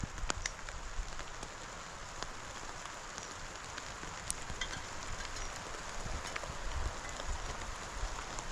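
Rain falls steadily on a backpacking campsite in the Canadian Rockies, a dense even patter of drops with scattered sharper taps close by, constant throughout.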